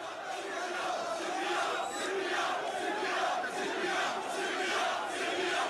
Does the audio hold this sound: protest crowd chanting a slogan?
yes